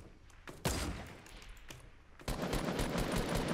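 Fortnite Battle Royale gunfire: a few sharp single shots and then a dense rapid burst near the end, loud and close against a quiet game background.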